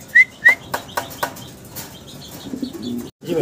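Fancy pigeons at a pigeon market, with two quick bursts of wing flapping near the start followed by softer rustling, faint chirps and low coos, close by and without talk.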